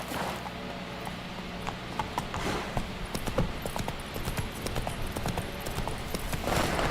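Hooves of a galloping horse in The Witcher video game, a steady clip-clop rhythm running the whole time over continuous game ambience, close and moderately loud.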